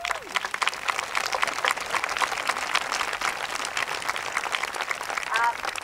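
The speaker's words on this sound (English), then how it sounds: "A big round of applause." Audience applause at an immigrant heritage wall dedication, a sustained, moderately distant patter of many hands clapping, with faint voices mixed in.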